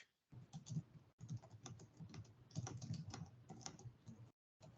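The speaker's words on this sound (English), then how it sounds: "You're typing." Rapid typing on a computer keyboard, heard during an online introductory Git session; a quiet, steady clatter of keystrokes with brief pauses and no voices.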